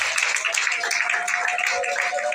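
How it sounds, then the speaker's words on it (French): Audience applause at the closing ceremony of an international women's book and arts fair, a steady, even wash of many hands clapping together throughout. "Peut-on applaudir, s'il vous plaît?"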